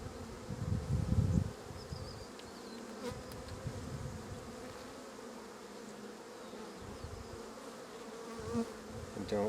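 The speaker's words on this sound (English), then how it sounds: "There's a lot of bees over here" A swarm of honeybees hums steadily around an open hive during an inspection, a close, constant drone with occasional louder passes near the microphone and no voices.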